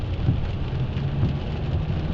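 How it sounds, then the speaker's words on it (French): Heavy torrential rain in Lyon pours down steadily as a dense, continuous roar with low rumbling underneath, loud and close throughout with no voices. "ici, on est à Lyon, il y a des pluies torrentielles"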